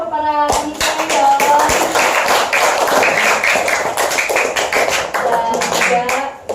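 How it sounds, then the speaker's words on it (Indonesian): An audience at a charity gathering for children of a shelter house claps for the organizers with rapid, crowded hand claps over a roomy hall, with voices and children talking underneath. "Tepuk tangan dulu dong ke para panitia ya."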